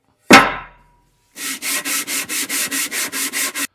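Hand sanding a flat face on a metal engine casting: one sharp scrape, then about a dozen steady, even back-and-forth rubbing strokes, close and fairly loud, with no talking.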